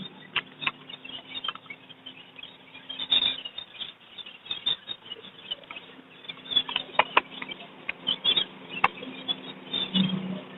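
Budgerigars at a Sunday bird market, wings fluttering and flapping in quick irregular bursts with light patter and scuffles, fairly close and moderately quiet against a faint steady hum.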